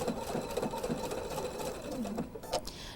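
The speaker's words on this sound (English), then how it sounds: "I chose this stitch because it is a heavier blanket stitch than one of the others that are on the machine" A sewing machine runs a heavier blanket stitch along a quilt, producing a fast, close mechanical whir and rhythmic chatter that continues steadily with small changes in pace.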